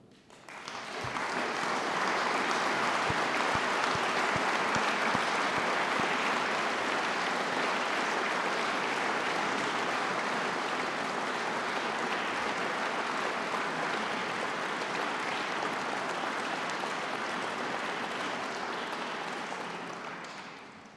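Sustained applause from an audience at a formal academy ceremony under a domed hall in Paris, a dense even patter of many hands clapping that swells quickly, holds steady for about twenty seconds and tapers at the end.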